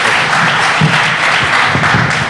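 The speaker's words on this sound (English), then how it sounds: "give a round of applause for Jose Atuay Borrero" An audience at a talk on Taíno survival and identity applauds for a speaker, a dense, steady wash of many hands clapping close by for the whole stretch.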